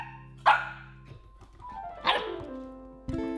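A cartoon dog barks twice, sharp and close, and a third bark cuts in at the end, with light background music tones between the barks.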